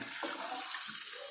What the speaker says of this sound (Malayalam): നമ്മൾ നേരത്തെ കുതിർത്ത് വെച്ച പുളിവെള്ളമില്ലേ, അത് അങ്ങനെ തന്നെ ഒഴിക്കുകയാണ്.